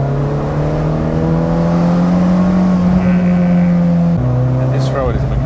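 Older BMW M3 engine droning steadily while driving on a road, a loud continuous tone that holds, then shifts pitch near the end as the gear changes.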